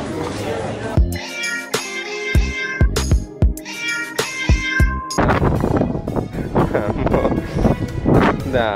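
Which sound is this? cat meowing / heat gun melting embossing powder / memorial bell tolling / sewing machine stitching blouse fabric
cat meowing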